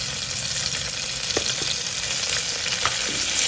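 Bruised lemongrass, galangal, bay leaves and squeezed lime tossed into a pot for chicken soup, steady sizzling and bubbling with a few faint stirring knocks, no talking.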